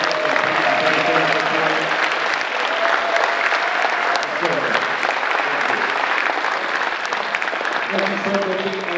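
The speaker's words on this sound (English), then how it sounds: "let's give another round of applause for" A festival ceremony audience applauds steadily, loud dense clapping filling the whole span with some voices and murmurs mixed in.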